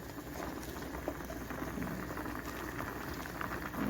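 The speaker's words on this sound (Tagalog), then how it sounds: "Kulo-kulo na." Chicken tinola soup bubbling steadily in a pot, a dense continuous rolling boil with soft popping bursts, close and moderately loud, no voices.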